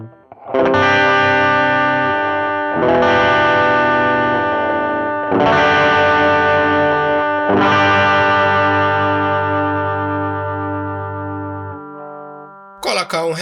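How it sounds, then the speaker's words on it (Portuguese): Electric guitar played through an Ampero One with its Tube Screamer overdrive simulation pushing the amp, four loud ringing distorted chords each left to sustain and decay, then a brief burst at the end. "E agora eu vou adicionar aqui a simulação do Tube Screamer para dar uma empurrada nesse amplificador."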